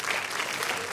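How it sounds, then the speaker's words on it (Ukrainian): A studio audience at an evening talk show claps in a dense, steady burst of applause lasting about a second, close and even throughout. "це тобі, оплески"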